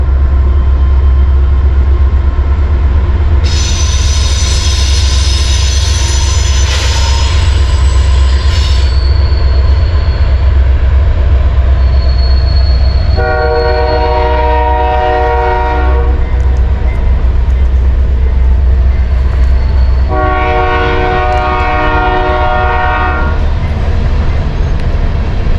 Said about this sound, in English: Too many trains.